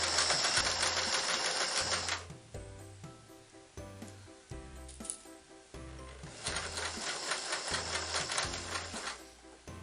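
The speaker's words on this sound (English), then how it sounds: "we're literally just sewing around the 2 centimeter bit that we've just pinned and sewing in the straps" A sewing machine stitches straps onto a fabric tote bag, its rapid whirring chatter running loud and close, easing into slower, separate needle thumps in the middle before speeding back up to a full run.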